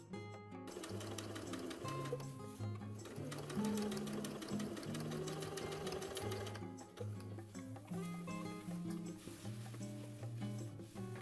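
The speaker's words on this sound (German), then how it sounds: "Dazu kann man beispielsweise schmalkantig steppen und an der Spitze verriegeln" A sewing machine stitches a dart in a pair of trousers, its rapid mechanical whirring and ticking running continuously and close, with a brief shift in pace before it carries on at a steady rhythm.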